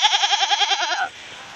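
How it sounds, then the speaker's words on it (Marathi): A goat in labour, one of three kids coming, bleats close by in a long wavering, pulsing cry of about a second that stops abruptly, leaving faint background noise. "ओरडायला लागले शेळी"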